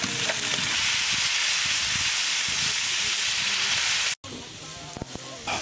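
Steak sizzles loudly in a hot pan, a strong continuous hiss that cuts out abruptly for an instant before resuming somewhat quieter.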